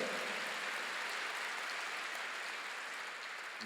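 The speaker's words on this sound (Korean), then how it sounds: "박수로 영광을 돌리시고" A church congregation applauds in a steady, even patter of many hands that holds at moderate loudness and ends abruptly.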